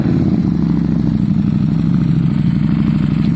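A Harley-Davidson motorcycle engine runs steadily in a garage, a loud, close, continuous low rumble with a rapid pulsing beat and light mechanical clatter, no voices.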